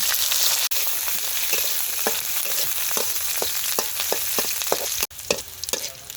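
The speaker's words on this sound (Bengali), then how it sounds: "রসুন ভাজা হয়ে গেছে, নামিয়ে নিব।" Garlic fries in mustard oil in a pan, giving a steady close sizzle broken by frequent short clicks and pops, with two brief dropouts and no talking.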